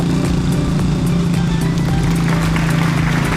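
Tricycle motor running loudly and steadily at close range, a continuous droning engine note that stays constant throughout with no talk.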